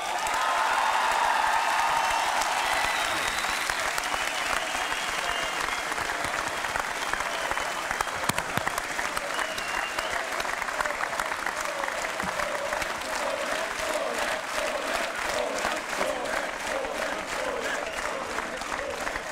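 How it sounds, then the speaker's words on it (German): Long, sustained audience applause at the SC Freiburg football club reception after the DFB-Pokal final, a loud dense crowd clapping with some cheering, holding steady throughout. "das ist dein Applaus."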